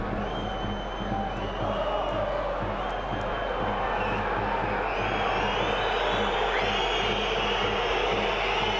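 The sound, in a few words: football stadium crowd reacting at 1860 Munich vs Bayern II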